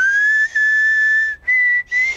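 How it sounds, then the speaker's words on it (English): A single person whistles a steady, fairly high note in a few long breathy tones, close up, with short gaps between them. "There's whistling while exhaling, which is like this"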